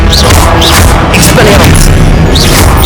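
Explosive booms and crashing impacts from a Confringo blasting spell in Hogwarts Legacy, loud and continuous across the stretch with several sharp bursts layered over dense game effects and a voice.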